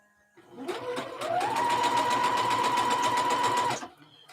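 A sewing machine stitches in one continuous run of about three seconds, its motor whirring up to speed, holding a steady rapid clatter, then stopping, close and clear.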